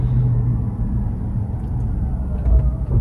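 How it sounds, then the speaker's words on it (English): Rivian R1T electric pickup towing a trailer, heard from inside the cab: a loud, steady low road rumble and drone with a faint tire hum, no talk. "it's towing, doing some towing with the Rivian"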